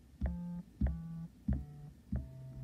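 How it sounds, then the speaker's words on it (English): A SynthMaster Player software synthesizer plays four short, identical low sine-wave tones in an even rhythm, each held briefly, then cut off before the next one starts. "this sine wave rather than the patch that we were expecting"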